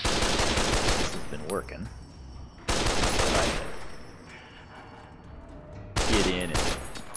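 Three bursts of rapid automatic gunfire in the post-apocalyptic shooter Fallout: New Vegas, loud and close, each lasting about two seconds with fading decay between them and a brief spoken line in one gap.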